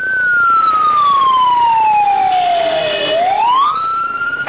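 Loud ambulance siren sweeps slowly downward in a long wail, then climbs sharply back up, steady, close and dominant with traffic rumble beneath.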